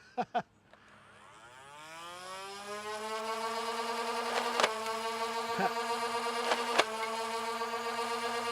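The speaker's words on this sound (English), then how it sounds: "weird to have to wait for your motors to rev up" Motors of a Nerf Elite 2.0 Double Punch blaster spin up after a couple of clicks, a steady rising whir settling into a loud sustained hum, with several sharp clacks punctuating it.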